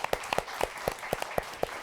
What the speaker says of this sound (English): So round of applause for Adelaide.